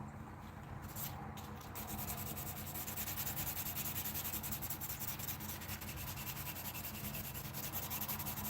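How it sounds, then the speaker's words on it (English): Wet/dry sandpaper rubs over wood in a workshop, making a continuous loud rasping scrub with a fast back-and-forth texture that runs steadily and close, with no talking. "It's not even wet, dry sandpaper, and it's fucking working great."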